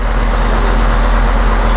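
A rebuilt diesel engine runs steadily on a dynamometer test stand in a workshop, giving a loud, constant low drone with broadband mechanical noise and no change in pace.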